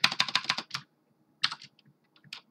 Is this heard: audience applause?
no